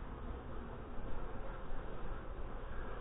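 Dense, steady swarm of honey bees buzzing close by throughout, a continuous droning hum at a hive opened for a late-September final inspection, with no voices.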